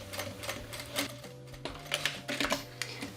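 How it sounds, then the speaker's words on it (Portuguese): A sewing machine stitches a zipper onto a fabric notebook cover, giving a steady mechanical hum with quick rattling needle bursts, close and moderately loud, with no talking. "zíper costurado"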